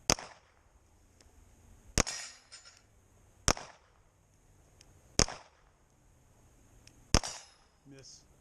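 Pistol shots at winter target practice: five sharp, isolated cracks spaced about every one and a half to two seconds, each with a brief ringing tail, against a quiet background.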